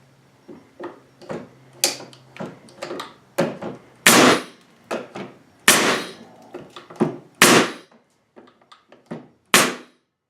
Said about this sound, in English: We have that nailer right there.